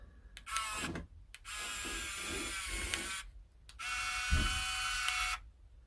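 A small winch motor on a custom RC crawler whirs in three short bursts, a high buzzing electric whine separated by brief pauses, close by.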